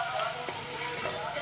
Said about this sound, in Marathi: असं छान परतून घ्यायचं सगळं.